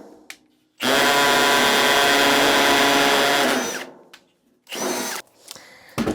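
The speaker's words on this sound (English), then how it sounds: "I had my drill on the hammer set in the whole time" A hammer drill roars loudly for about three seconds, then stops; two shorter bursts of drilling follow after pauses.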